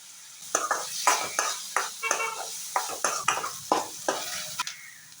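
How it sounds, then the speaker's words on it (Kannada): Two medium onions frying in a pan for egg dry masala, with a steady sizzle and repeated close stirring scrapes of a utensil against the pan, no voices over it. "2 ಮೀಡಿಯಮ್ ಗಾತ್ರದ ನೀರುಳ್ಳಿ, ನೀರುಳ್ಳಿ ಚೆನ್ನಾಗಿ ಫ್ರೈ ಆಗಲಿ."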